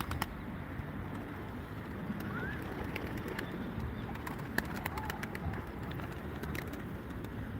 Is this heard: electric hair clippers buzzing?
no